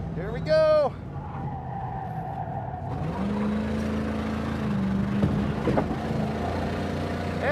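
A car driven fast around Laguna Seca race track, its engine droning steadily inside the cabin with a sustained pitch change as it accelerates, while someone briefly exclaims at the start.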